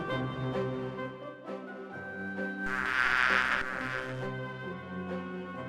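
Bees buzzing around hives in the video game Discworld II, a steady droning hum that swells louder in the middle, heard over a continuous tonal game background with no talk.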